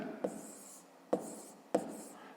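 A pen writes on paper in a math exercise notebook, faint scratchy strokes broken by three sharp taps or stroke starts, quiet and close with no voice.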